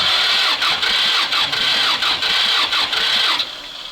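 A T-16 tractor engine is cranked without the decompressor. Loud, close, rhythmic chugging pulses at a steady beat catch and run briefly, then the engine fades off at the end.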